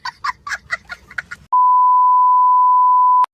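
A phone rings with an incoming call, a single steady electronic tone held for almost two seconds after a few earlier chirping sounds, loud and close.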